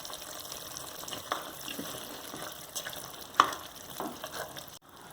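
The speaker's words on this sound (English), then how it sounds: "And then I just let this simmer down to gravy" Curry soy chunks with scotch bonnet pepper simmering in a pot, a quiet steady bubbling and sizzle with a few faint utensil clinks and one sharper knock.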